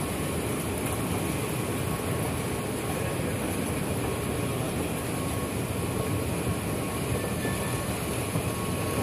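Steady rumbling of a metro train at Dubai's DMCC metro station, with a constant broadband roar and faint rail clatter, sustained and moderately loud throughout.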